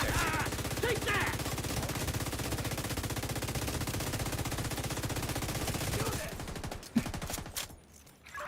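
Sustained rapid gunfire from a player's weapon in a video game, a loud continuous fusillade lasting several seconds before cutting off, with faint game sounds afterward.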